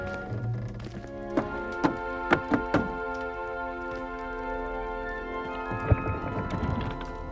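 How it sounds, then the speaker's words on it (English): Five quick tapping knocks on a wooden barrel in a short, uneven rhythm, then a single later knock, set in Hogwarts Legacy over steady ambient music and room tone. "You must tap the barrel, 2 from the bottom, middle of the second row, in the rhythm of Helga Hufflepuff"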